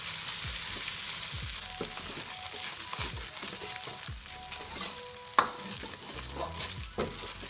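Chicken pieces frying in a pan for fried rice, a low steady sizzle with repeated stirring scrapes and an occasional sharp clink of a utensil, close and quiet, no talking.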